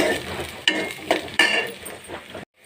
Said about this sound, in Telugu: ఆయిల్ వేడెక్కినాక ఆనియన్స్ వేసుకోవాలి ఆనియన్స్ కొంచెం ఆయిల్లో మగ్గాలి